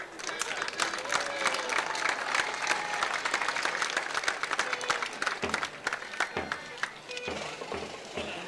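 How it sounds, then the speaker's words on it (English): A crowd claps for a youth band on County Final Day at the 1995 Donegal GAA senior football final, with dense, sustained applause that thins into scattered claps toward the end. "youth band presents a big round of applause"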